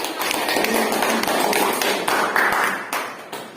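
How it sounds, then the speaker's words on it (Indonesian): Students in a classroom applaud a classmate after a practice teaching lesson, a continuous, fairly loud patter of many hands clapping that runs throughout with slight swells. "Tepuk tangan untuk Neti"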